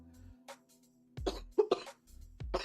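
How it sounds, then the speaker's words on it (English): A person coughs in a few close, harsh bursts, a couple of them clustered together, followed by a rough throat-clearing hack, with quiet pauses in between. "I'm over here coughing, choking to death"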